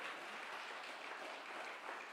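A congregation applauds Jesus at an evening worship service, producing a quiet, continuous patter of clapping heard from a distance with no voices over it.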